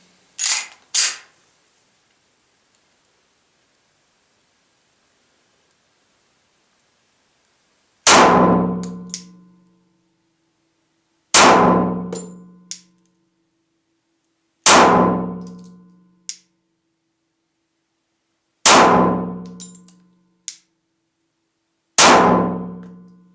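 A Glock 26 pistol fitted with a Glock 19 barrel fires five single shots spaced a few seconds apart, each a loud sharp crack with a quick decaying tail and small metallic clinks after, preceded by two earlier handling clicks, with no talking.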